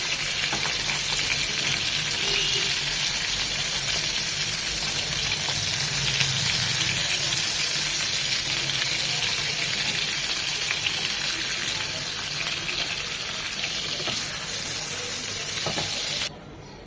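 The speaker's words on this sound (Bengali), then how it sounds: "জাস্ট একটু 1 মিনিট করে ভেজে নেব, কড়া করে ভাজবো না।" Hilsa fish frying lightly in mustard oil in a pan, a steady loud sizzle running without a break and cutting off sharply just before the end.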